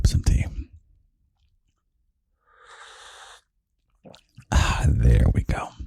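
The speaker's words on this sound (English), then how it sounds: "It's not easy to slurp some tea." A person slurps tea once, making a short, airy sucking sound that stands alone in a quiet gap between bursts of close talking.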